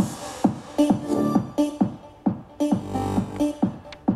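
A dance music track is started on a Philips M1X-DJ controller, with a punchy kick drum pulsing at a steady beat beneath sustained synth chords, moderately loud with no talking.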